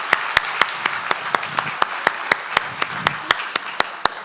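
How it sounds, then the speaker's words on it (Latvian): An audience at a talk claps in a steady, evenly spaced rhythm, sharp distinct claps about four per second over a soft background murmur. "Ar aplausiem Jākaps Krigerts."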